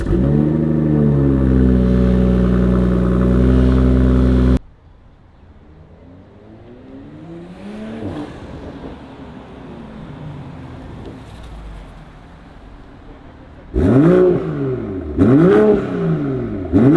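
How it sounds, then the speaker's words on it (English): A BMW 440 with an AWE Touring Edition catback exhaust holds a loud, deep steady drone, then drops to a quieter idle before several sharp revving blips near the end. "So that's the AWE catback. That's what it sounds like."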